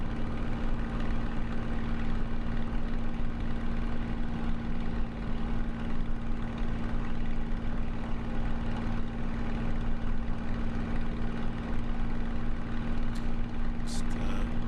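A Spitfire L.F. Mk IXc piston engine drones in Microsoft Flight Simulator, a steady loud hum with a constant tone running throughout and a few faint clicks near the end.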